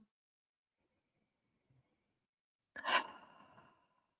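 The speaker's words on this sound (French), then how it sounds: "on prend-tu une bonne grande respiration ensemble?" After a near-silent pause during guided meditation, one deep breath is drawn and released close by, a single soft airy exhale lasting about a second.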